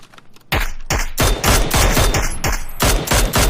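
Rapid bursts of automatic gunfire from a firefight in the battle-royale video game PUBG, loud and close, with sustained volleys after a brief quiet start.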